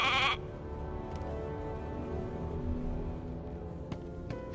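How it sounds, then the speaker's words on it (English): A single short sheep bleat from the video game Divinity: Original Sin II sounds loud and close at the very start, then gives way to quiet, low game ambience. "A sheep!"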